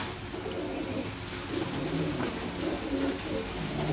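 Domestic pigeons with red eyes coo softly in low, repeated throaty rolls over a steady background hum.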